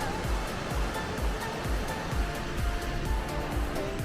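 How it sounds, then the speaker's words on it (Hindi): Rushing waterfall roars steadily below a cable car in Uzbekistan, a broad continuous wash of flowing water with faint pulsing, heard from a distance without voices. "नीचे झरना बहता हुआ, बहुत ही खूबसूरत"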